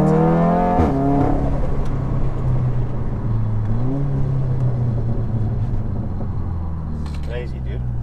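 A Stage 3 tuned VW Golf 7R accelerates hard, its loud engine rumble rising in pitch through continuous revving, with a brief gear-change dip partway, close and dominant throughout.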